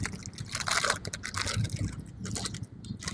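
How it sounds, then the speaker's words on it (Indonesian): Petrol drips and trickles from the fuel line of a Suzuki Smash motorcycle carburetor during servicing, with small wet taps and light scraping handling noises close by. "Bensinnya habis, netes doang."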